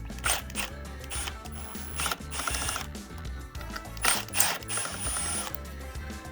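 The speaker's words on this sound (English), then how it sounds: "We'll remove these 2 screws. This is a T20 as well." A T20 driver backs two screws out of a Steelcase office chair arm, producing quick bursts of close ratchet clicking separated by short pauses, with no talk.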